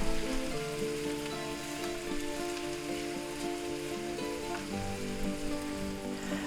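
Food frying in oil in a pan for a breakfast burrito, giving a steady, fairly loud crackling sizzle throughout with no talking.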